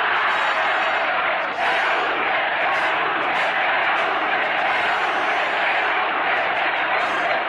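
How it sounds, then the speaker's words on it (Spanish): A large crowd roars and cheers without pause at what appears to be a political rally in Peru, the dense wall of noise staying loud and steady throughout. "¿Qué me aplaudes si estoy aquí porque tú lo quisiste?"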